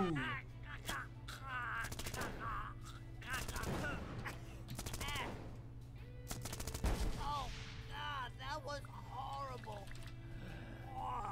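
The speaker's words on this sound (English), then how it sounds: "He shoots, he misses." Video-game gunfire from a player: bursts of sharp shots crackle in clusters around the second and seventh seconds over a steady background hum, with game voices and chatter running through the rest.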